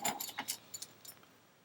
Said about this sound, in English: This is the number 2 depth key